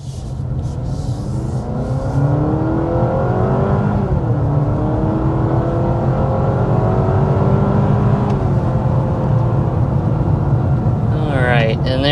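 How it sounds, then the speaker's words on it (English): A 2026 Honda CR-V Sport Touring hybrid under hard acceleration, heard from inside: a loud, steady engine drone climbs in pitch, drops briefly as it shifts, then climbs again while road noise rumbles underneath. "there we are quickly accelerating up to 60 miles per hour"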